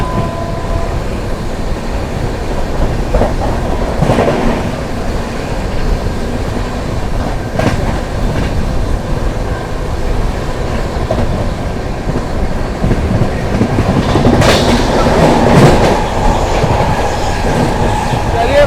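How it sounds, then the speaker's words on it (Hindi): The 12417 Prayagraj Express rushes past at high speed on the Prayagraj–New Delhi line, a loud steady roar of wheels and coaches with rhythmic clickety-clack over rail joints, swelling near the end as cars pass close by. "चलिए भाई, ये है अपनी VVIP प्रयागराज एक्सप्रेस।"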